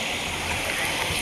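River water rushes in a brief, steady wash of broadband noise, loud and continuous.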